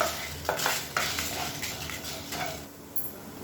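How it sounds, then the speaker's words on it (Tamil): Cumin and dried red chillies dry roasting in a pan, stirred steadily with a spoon: continuous scraping and rattling of dry spices against metal, close and fairly loud, with a soft crackle underneath and no talking. "இது எல்லாத்தையும் நல்லா வறுத்துக்கலாம்."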